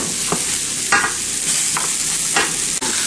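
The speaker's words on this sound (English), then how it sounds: "I'm going to toast some nutties." Nuts toast in a pan for an almond, parsley and cauliflower salad, giving a steady dry sizzle broken by several sharp scraping stirs, close and fairly loud with no talking.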